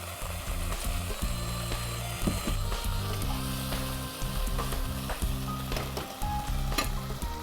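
Prawns fry in a pan for a prawn korma, giving a continuous crackling sizzle with occasional scraping stirs and clinks, heard close and fairly quiet, with no talk.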